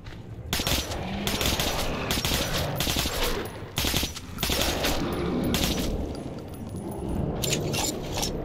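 Rapid bursts of gunfire crackle loudly in several volleys in Metro 2033 Redux, separated by brief pauses, over a busy game soundscape.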